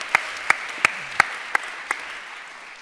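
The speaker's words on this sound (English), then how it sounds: "Applause are nice." Six sharp, evenly spaced claps ring out one after another, then stop. The slow, sparse clapping stands alone, with no talk over it.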